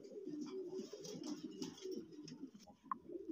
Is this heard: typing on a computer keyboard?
no